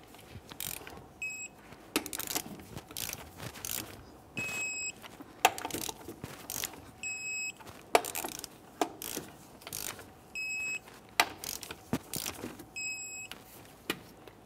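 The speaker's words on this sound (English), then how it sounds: "let's go ahead and torque these to the 100 foot-pounds in a crisscross manner" A ratchet torque wrench tightens lug nuts on a 2001-2005 Ford Explorer Sport Trac wheel, giving steady rapid clicking with a series of sharp, pinging click signals at regular intervals as each nut reaches torque, close and fairly quiet.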